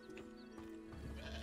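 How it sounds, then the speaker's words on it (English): Sheep bleating in the video game Hogwarts Legacy, a brief faint call over soft ambient game sound. "Hello there, sheep."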